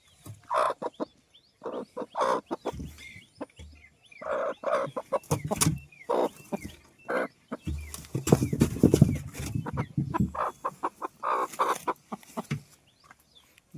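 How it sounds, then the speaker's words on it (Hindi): A desi hen sits on her eggs in a cut-open oil tin nest on an Indian farm, clucking in short repeated bursts, close and fairly loud, with other fowl sounds mixed in. "यहाँ पर मुर्गी बैठी है अंडे पे।"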